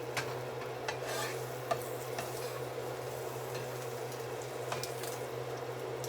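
French toast fries quietly in a pan, a soft steady sizzle with a low hum underneath and a few light clicks and scrapes from flipping.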